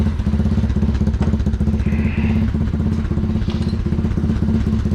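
A motorcycle engine idling steadily after its fuel mixture was made a little richer, with an even, loud, rapid thumping pulse and some mechanical clatter throughout, close by and alone.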